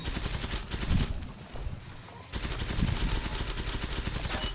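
Rapid bursts of automatic gunfire from a machine gun in the video game Killing Floor 2 rattle loudly and continuously, pausing briefly for about a second before resuming at the same fast rhythm.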